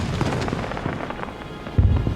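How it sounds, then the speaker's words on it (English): Weasley's Wildfire Whiz-bang fireworks going off in a Harry Potter video game, a series of popping bursts and crackles at moderate distance, ending in a louder low thump, with no talking. "Looks like somebody bought out all the Weasley's wildfire whiz-bangs."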